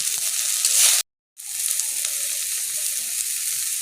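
Vegetables and tomatoes with salt sizzling and frying in a pan for momo filling, a steady close crackle with a brief silent gap partway.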